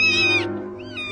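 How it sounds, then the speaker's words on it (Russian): A cat gives a loud, close, drawn-out meow that bends downward, then a shorter, softer second meow follows after a brief pause. "Кошка, кошка. Ты нашла кошка?"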